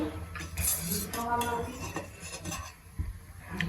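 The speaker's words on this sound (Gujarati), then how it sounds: "ગેસ ઓન કરીશું બાઉલ મૂકીશું" A metal bowl is set down on a gas stove, with several clattering knocks and clinks of cookware close by, brief and busy, and no talk.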